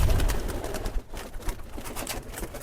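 Pigeons coo in a loft, soft throaty burbling calls repeating close by in an uneven rhythm against a light hiss of background noise.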